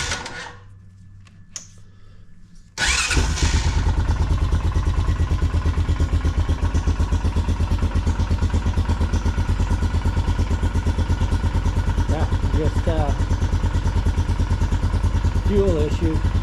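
A Honda Foreman ATV with a dirty carburetor cranks and fires after a brief quiet moment, then settles into a loud, steady, close-up idle with a rapid thumping beat.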